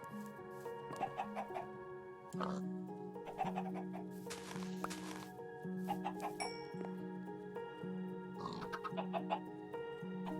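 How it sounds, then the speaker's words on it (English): Minecraft chickens cluck in short repeated bursts as they are fed, the clucks rising over a steady musical drone throughout. "Let's feed the chickens while we're here."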